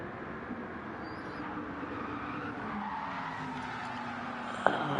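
Race car sliding and skidding through a section of Watkins Glen in a racing video game endurance race, a faint, steady engine drone with a low tire scrub, ending in a brief sharp click.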